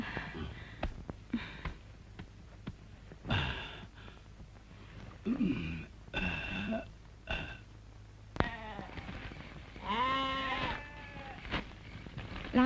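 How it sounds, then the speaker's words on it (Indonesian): A goat bleats repeatedly in a 1991 Indonesian film scene, several loud, wavering bleats and snorts separated by short pauses, close to the listener. "Laper ya? Kok ngembek terus?"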